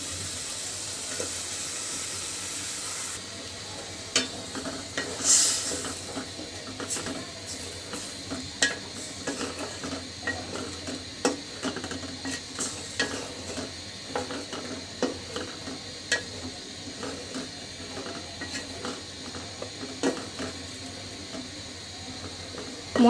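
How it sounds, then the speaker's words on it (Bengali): Washed vegetables stirred into spice paste frying in a pan for fish curry, with soft scraping stir strokes and irregular clatters over a steady low sizzle, close and moderately quiet, no talking. "এখন আমি এই সবজিটা মানে এই কষানো মশলাটার ভিতরে কিন্তু দিয়ে দিচ্ছি ধুয়ে রাখা সবজিগুলো"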